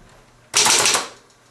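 Keys and backspace of a 1922 Underwood three-bank typewriter: a single sharp, loud mechanical clack burst, close up, that quickly fades back to quiet.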